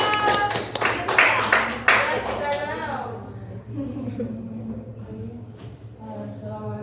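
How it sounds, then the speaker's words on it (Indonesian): Classroom students clap for a group of presenters in a mathematics lesson, a short burst of close, uneven clapping that stops after about three seconds, followed by a voice speaking. "Ya, tepuk tangan dulu untuk kelompok kedua."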